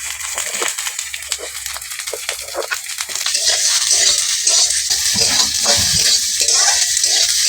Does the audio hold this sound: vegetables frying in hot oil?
yes